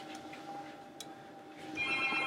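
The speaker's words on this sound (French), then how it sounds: "Mon téléphone est en train de sonner malheureusement." A mobile phone rings indoors as a steady electronic ringtone, a sustained tone under a faint background, rising louder and brighter toward the end.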